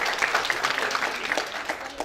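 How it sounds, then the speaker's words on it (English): Steady audience applause in a conference room during a community dialogue event, a continuous wash of many hands clapping at moderate level without pause. "Please let's give them as well a round of applause."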